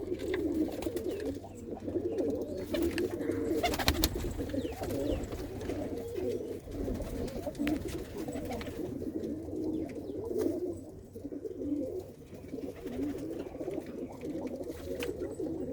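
Pigeons kept at a house coo continuously in soft, overlapping low rolls, a close but gentle murmur with occasional flutters and knocks.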